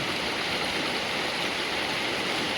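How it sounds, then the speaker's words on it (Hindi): Steady broadband rush of the Narmada river flowing nearby, a continuous loud stream-like wash with no break and no voices. "जस्ट फील द साउंड उस मैया का पानी को"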